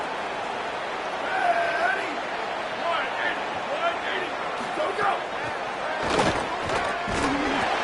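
A college football stadium crowd at Memphis versus Eastern Michigan roars steadily under a play-by-play commentator's voice, with the cheering swelling louder near the end.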